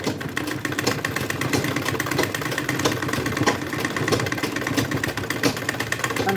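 A sewing machine stitching a cloth potli bag at home runs in a steady, fast mechanical clatter with no pauses, moderately loud and close, with no talking over it.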